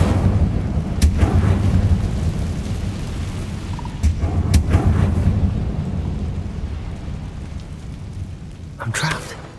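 Incendio fire spell cast in the Hogwarts Legacy video game, heard as several loud, booming whooshes and bursts over a rumbling low background, with a sharper flare near the end.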